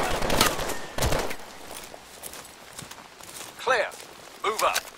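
A weapon with a tiny two-shot clip fires in the Call of Duty: Advanced Warfare campaign mission ATLAS. A few sharp, separated shots ring out among footsteps and scattered game sounds, with voices talking in between.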